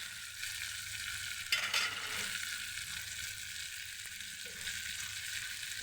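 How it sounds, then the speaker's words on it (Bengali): Water is added to frying spice paste for a dried-fish and taro-stolon curry, and a fuller burst of sizzling rises, then settles into a steady close frying hiss. "এখন এর মধ্যে আমি সামনে করে পানি দিয়ে দিব।"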